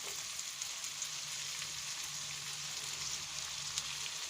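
Tomato sizzling as it goes into a paella pan for seafood paella, a steady soft hiss and crackle of frying that holds evenly throughout, fairly quiet with no talking.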